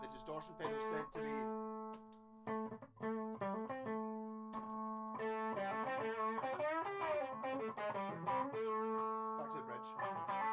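Electric guitar played through a distortion pedal on an Octoblastercaster, sustained overdriven chords and single notes ringing with rich harmonics, loud and close, continuous with brief gaps between phrases.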